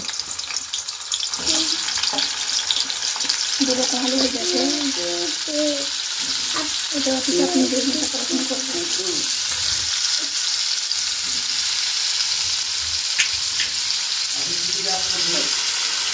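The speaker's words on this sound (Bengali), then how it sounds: "হ্যাঁ মাটি চালে আলু ভাজানো হচ্ছে" Potatoes frying in a clay pan give a continuous hiss and crackle, with brief bursts of voices talking in the background.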